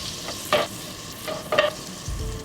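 Butter melting in a pan for browned butter, swirled around with a light sizzle and a few sharper clinks and scrapes of the pan at intervals, close and fairly quiet.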